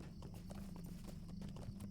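A horse's hooves clip-clop in a brisk, even rhythm while riding in the online game The Lord of the Rings Online, with a steady low rumble of movement underneath.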